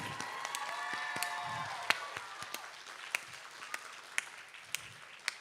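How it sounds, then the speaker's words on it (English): Scattered, faint claps from the audience at a Bharatanatyam arangetram, a few distinct hand claps spaced out over quiet lingering tones from the hall. "Ladies and gentlemen, another big round of applause for the sisters."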